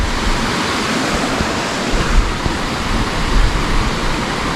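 A strong, clear mountain stream flows below a bridge, a loud and steady broadband roar of rushing water with slight surges, close by and without voices.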